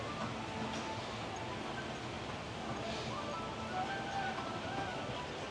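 Steady, continuous splashing and rushing water from a theme park water feature, heard from nearby as a broad, even wash with no speech.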